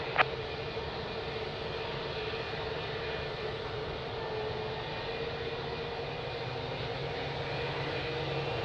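A fixed-wing aircraft takes off from runway 02 at Lisbon Airport, a steady, even roar of engine noise held at a distance for several seconds, with no voices.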